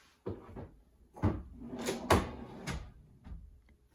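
Drawer in a tiny house, used as a pull-out office space, being opened and closed: several close wooden slides and knocks spread over a few seconds, with no talk.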